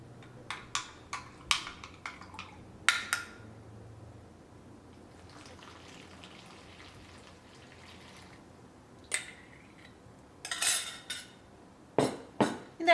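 Bread dough ingredients of milk, yeast and flour stirred with a spatula in a bowl: intermittent clinks and scraping knocks against the bowl, close and fairly quiet, arriving in short bursts with pauses between.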